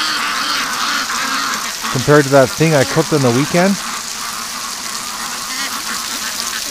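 A short burst of ducks quacking, several loud nasal calls in quick succession from nearby on a muddy lawn, with a person talking before and after.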